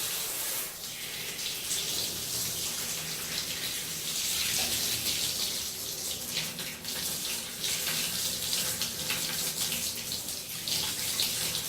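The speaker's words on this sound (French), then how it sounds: "Et l'eau s'écoule naturellement évidemment vers l'avant" Steady running water from a tap or shower rinsing hair after a DHI hair transplant, a continuous close splashing hiss with no talking.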